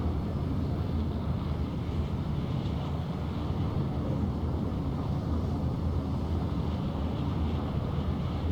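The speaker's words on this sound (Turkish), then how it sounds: "jetle uçuyoruz yani bu Star Wars'taki jetin aynısı" Steady whooshing, rumbling drone of a Star Wars-style jet flying in the Fortnite video game, continuous and even throughout with no talking.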